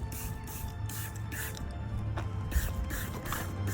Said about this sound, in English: And get this thing spraying.